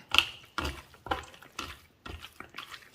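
Bare hands rub and squeeze chicken pieces coated with salt, coconut oil and chilli powder for a Kerala chicken curry, making close, wet squelching bursts in about five rhythmic strokes with short pauses between.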